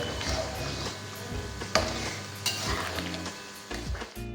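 Paneer tikka masala, Maharashtrian style, sizzles in a pan while being stirred, with scraping and light clatter of a spoon against the metal over a moderate, continuous fry.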